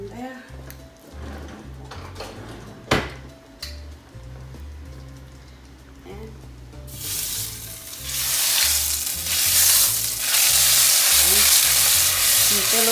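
Spaghetti in a saucepan being stirred, soft clinks and scraping over a low rumble that swells into a loud, steady hiss toward the end.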